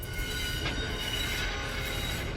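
A train rolls along railroad tracks with a dense, continuous rumble and metallic wheel screech, loud and close throughout with no talking.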